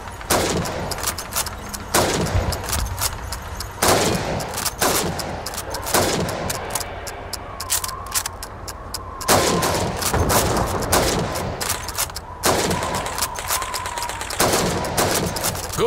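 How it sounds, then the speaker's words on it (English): Rifle gunfire at helmet targets on a Call of Duty 2 Red Army training range, with loud, close single shots fired in quick irregular bursts over about fifteen seconds amid faint ambient game noise. "Now, let's see how well you can do under pressure. You have 15 seconds to shoot the helmets."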